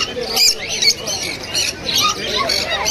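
Exotic birds at a busy bird market in Serampore squawk and chirp in repeated sharp bursts, with some pigeons among the stock, close by and fairly loud against a dense crowd background with voices.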